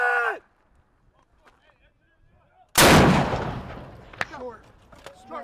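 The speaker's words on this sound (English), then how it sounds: "Rocket!" Rocket launched on a U.S. Marine Corps firing range, one sudden loud blast that rolls into a long fading roar, with shouted voices before and after.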